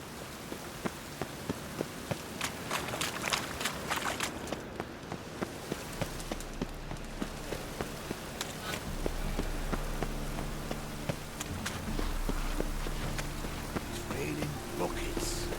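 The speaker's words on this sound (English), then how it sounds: "Raining buckets." Heavy rain in The Witcher 3 pours steadily, dense pattering broken by sharper drips, with a low droning tone joining partway through.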